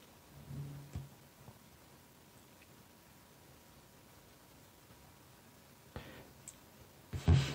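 Sparse clicks from a computer mouse: a few soft single clicks early on, then a couple of sharper, louder clicks near the end over faint background hiss.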